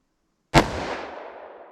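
A single sharp, loud report from a Taurus 605 .357 Magnum revolver with a 2-inch barrel, fired during a ballistic test, rings out after a half-second of silence and decays over a lingering echo.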